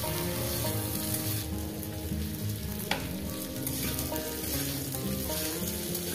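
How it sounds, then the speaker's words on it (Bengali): Red lentils frying in a pan with drumstick stalks and turmeric, a loud continuous close-up sizzle with a stirring clatter partway through. "ডালটা আমার ভাজা হয়ে গেছে সবজি ডাটা দিয়ে।"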